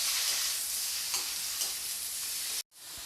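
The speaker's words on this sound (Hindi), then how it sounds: "भिंडी को मैं फ्राई करके 2 से 3 मिनट के लिए फ्राई करूँगी हाई फ्लेम पे।" Okra (bhindi) fries in hot oil over a high flame, giving a steady, close sizzle with faint stirring before it cuts off abruptly near the end.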